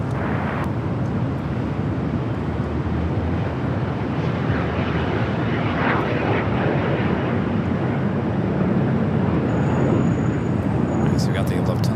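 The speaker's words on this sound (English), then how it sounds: "So we got the Lufthansa Queen heading out here for a north side at takeoff." A Lufthansa Boeing 747 taxis out for takeoff at Los Angeles airport, its jet engines giving a loud, steady rumbling roar with wind buffeting the microphone throughout.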